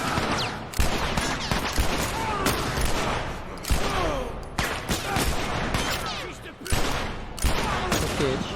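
Gunfire in The Last of Us Remastered on PS4 sounds as dense, loud, sustained bursts of shots and booming impacts that fill the whole stretch, with game voices mixed in.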